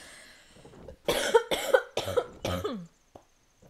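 A person coughs in four hard, close bursts in quick succession, each a rough raspy hack, with a faint breath before and a short trailing wheeze, all alone without talk.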